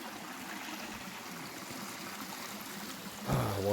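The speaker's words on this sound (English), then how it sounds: "Go down here to the creek." Creek water streams and trickles over rocks in a state park, a steady close-up wash of flowing water with no talk, swelling slightly louder near the end.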